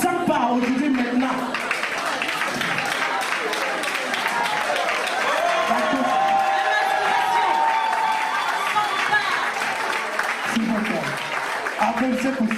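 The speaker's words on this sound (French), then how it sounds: "Applaudissez pour cette grande dame." A conference audience applauds loudly and continuously in a dense patter of many hands, mixed with crowd chatter and a few voices calling out, for a woman on stage.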